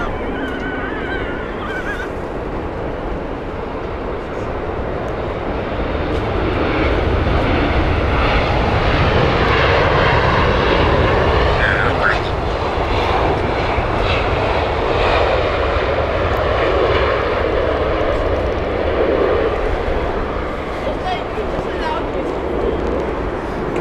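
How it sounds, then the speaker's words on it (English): Airbus A320-200 airliner on the Madrid flight at Heathrow, its jet engines giving a continuous roar that builds midway and holds loud, fairly near. "Airbus A320-200"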